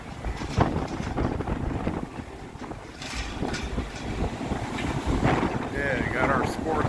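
Strong wind buffets the microphone on the open deck of the Carnival Celebration cruise ship, a continuous roaring rumble that surges and eases, with faint voices mixed in.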